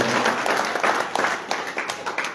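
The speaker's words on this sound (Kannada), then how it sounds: "ಜೋರಾದ ಒಂದು ಚಪ್ಪಾಳೆ ನಮ್ಮ ಗವಾಯಿಗಳಿಗೂ ನಮ್ಮ ಸರ್ವವಾದಿಗಳಿಗೂ" Audience applause for the singers and accompanists at a village gathering in Kolluru, a dense, steady wash of many hands clapping close by, with faint voices mixed in.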